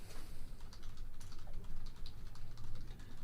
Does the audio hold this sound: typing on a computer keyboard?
yes